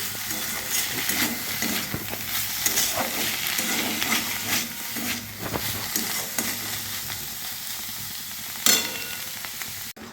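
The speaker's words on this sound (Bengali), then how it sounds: "আজকে করছি মূলো শাক ভাজা, সর্ষে বাটা দিয়ে ভেজে নিচ্ছি।" Radish greens fry with mustard paste in a pan, a close, continuous sizzle broken by scraping stirs and a sharp clank of utensil near the end.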